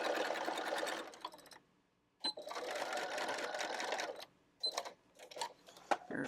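Sewing machine stitching a canvas tote bag seam, running in steady whirring bursts with short pauses and a quick backstitch, close and clear.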